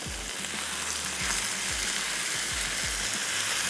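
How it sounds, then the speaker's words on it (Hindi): Garlic ginger paste fries in a pan with a steady, dense sizzle close by and a few soft low knocks, with no voices. "ये चला गया लहसुन अदरक का पेस्ट, ऐड कर देते हैं और इसको अच्छे से भूनेंगे"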